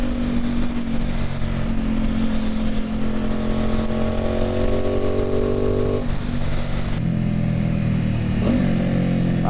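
An Aprilia Tuono 660 fitted with an aftermarket eBay exhaust rides along at slower speeds, its engine droning loud and close with rising and falling pitch through gear changes and a brief clatter near the end.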